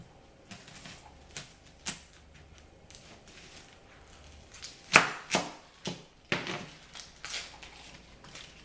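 Knife cutting meatball ingredients on a board for spaghetti, several separate chopping strikes of varying loudness at close range with quiet pauses between, no talking.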